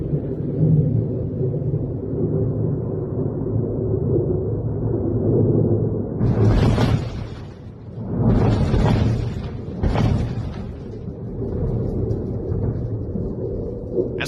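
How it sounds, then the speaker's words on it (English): Loud explosions from an airport during a military strike, heavy booming bursts around six to ten seconds rising over a continuous low rumble, powerful and distant enough to shake the surrounding city. "those were some loud explosions that came from the airport"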